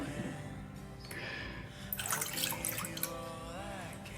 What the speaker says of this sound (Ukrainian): зараз додам молоко